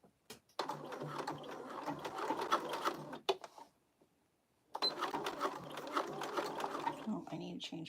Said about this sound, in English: we're sewing on this machine today because I haven't sewed enough on her